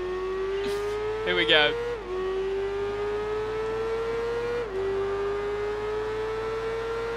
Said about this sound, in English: This bike is very quick in a straight line.